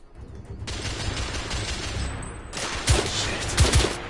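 Rifle gunfire in the video game The Order: 1886, a dense burst of rapid shots with sharper cracks near the end, loud and close.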